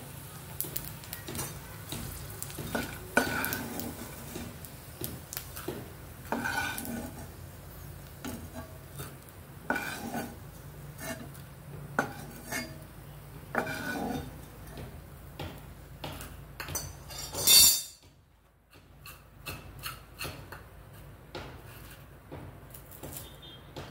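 Edible gum (dink) roasting in ghee in a pan, a steady soft crackle with repeated scraping strokes of a spatula against the pan, ending in a brief louder clatter followed by near silence.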